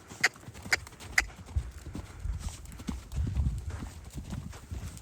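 Pony hooves clip-clopping at a gallop during a riding session, a few sharp nearby strikes followed by a steady rolling rhythm over low ambient noise.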